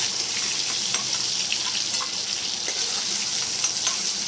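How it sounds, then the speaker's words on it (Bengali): Steady hiss and crackle of cauliflower frying in hot oil, continuous and close, with occasional faint clinks of stirring. "ওই তেলের মধ্যেই ফুলকপিগুলো ভেজে নেব"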